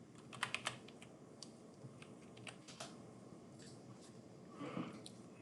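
Keys on a computer keyboard are tapped while a stock ticker is entered into a short-data website, giving a quiet, uneven run of close clicks over a soft background hum.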